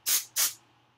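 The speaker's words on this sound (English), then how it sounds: "I'll go ahead and spray some more." Two quick bursts of perfume sprayed from a bottle at a vanity, each a sharp airy hiss, close and clear, followed by quiet.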